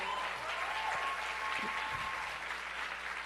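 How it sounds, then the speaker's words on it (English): An audience at a faith conference in Montreal applauds, a dense, steady wash of clapping that holds evenly for the whole stretch and sounds moderately distant. "Can we have another round of applause for Holly?"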